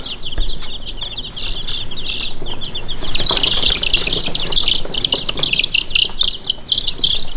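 High-pitched peeping of Red Mottled Ancona bantam chicks fills the scene steadily, with occasional clucks from chickens and soft rustling, close and fairly loud.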